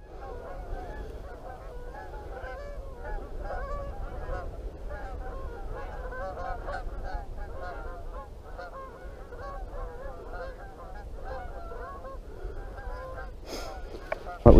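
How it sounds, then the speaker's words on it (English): A large flock of 600 to 700 geese honks in a field about 150 yards away, a continuous dense chorus of overlapping calls at middle distance, with a brief knock near the end. "150 yard up that field, there's 600 to 700 geese."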